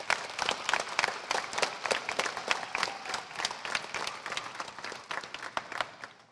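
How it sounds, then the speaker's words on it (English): Audience applause at a high school commencement ceremony, a moderately quiet round of individual claps that sound fairly distant, steady throughout with no one speaking. "If we could please give those individuals a round of applause."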